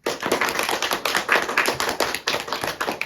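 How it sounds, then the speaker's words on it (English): Round of applause for a fifth-grade student presenting a mathematician interview, a dense patter of many hands clapping steadily and close for a few seconds, with no talking over it. "Please give her a round of applause."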